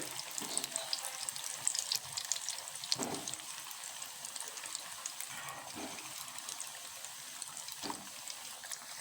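Milk-powder gulab jamun balls frying in boiling oil give a steady, soft, fine sizzle, with a few louder bubbling bursts and light stirring noises along the way.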